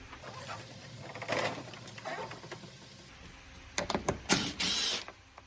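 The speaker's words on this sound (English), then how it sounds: "we are going to remove these two bolts in the back of the bumper using a T30 Torx bit, and I have mine on my impact" An impact wrench fitted with a T30 Torx bit loosens the rear bumper bolts on a Honda Accord, giving short, loud whirring bursts near the end that follow quieter clicks and handling noises.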